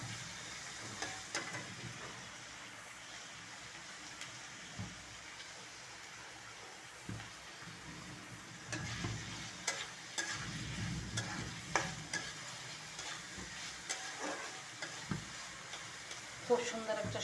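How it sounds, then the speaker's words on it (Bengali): Taro stolons (lati) with a few dried fish (shutki) fry and sizzle softly in a pot, with intermittent stirring scrapes and knocks over a low hiss, and a little talk in the background. "এই যে শুটকি, 4-5টা শুটকি দিয়েছি, চাপা দিয়ে লতি রান্না করব।"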